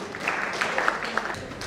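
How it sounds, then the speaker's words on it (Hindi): Applause from a conference audience welcoming a panelist onto the stage at an industrial convention, a steady patter of clapping at moderate volume, fairly close. "जोरदार तालियों से स्वागत प्लीज"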